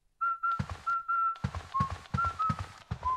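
Luigi whistles a short, bright melody in a Mario video game, with steady musical accompaniment and a rhythmic beat beneath it.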